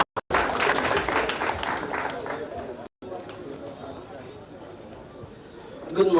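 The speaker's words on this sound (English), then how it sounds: "Put your hands together for him." Audience clapping at a construction artisan award ceremony, a fairly loud burst with cheering and chatter after a short gap, fading somewhat toward the end.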